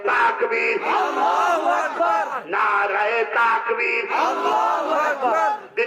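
A crowd at a religious gathering shouts an Islamic slogan together, loud and close, in repeated unison bursts with brief gaps between the chants.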